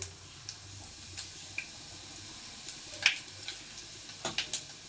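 Urad dal frying in a pan while a pumpkin gojju is being made, with a faint sizzle and light intermittent spatula clicks and taps, quiet and close.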